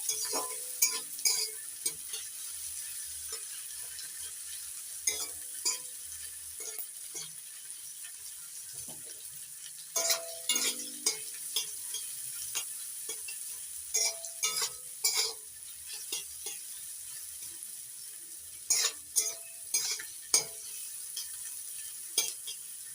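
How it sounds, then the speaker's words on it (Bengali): Chopped onions, salted, sizzle in a pan while a spatula stirs them, a steady soft frying hiss broken by repeated scraping and clattering strokes of stirring throughout. "নাড়াচাড়া করে পেঁয়াজটা ভেজে নিচ্ছি"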